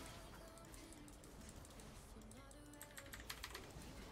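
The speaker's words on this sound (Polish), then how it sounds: "napieprzałem E na klawiaturze jak chory" A computer keyboard key is mashed over and over during a game of League of Legends, giving quiet, rapid clicking under an excited voice.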